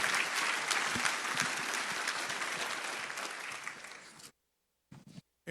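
A crowd at a civic State of the City event gives dense, sustained applause that cuts off abruptly, followed by a few brief sounds.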